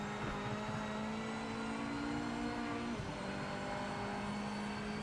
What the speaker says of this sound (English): I'm impressed with the car sounds.